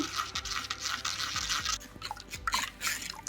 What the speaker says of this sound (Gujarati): તો હવે આપણે એક આ બાઉલ લેવાનું છે અને એની ઉપર ગણો રાખવાનો છે અને એમાં આ બધું જ ગાળી લેવાનું છે